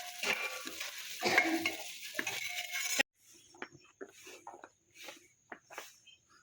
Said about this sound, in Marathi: आणि असं चांगलं परतून घ्यायचं व्यवस्थित असं